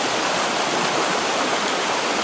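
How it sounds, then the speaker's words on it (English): Heavy rain and rushing water outdoors make a steady, dense roar, loud and close, continuous for the whole stretch with no voices over it. "There's a lot of rain here at the moment."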